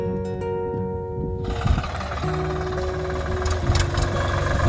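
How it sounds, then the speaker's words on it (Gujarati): A GPS-guided automatic tractor runs with its engine going, a steady low rumble with a faint tonal hum, close and continuous throughout after a quieter opening moment. "અત્યારે ટ્રેક્ટર સ્ટાર્ટ થઈ ગયું છે"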